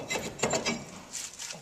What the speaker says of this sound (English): And now I'm going to pull the rotor off.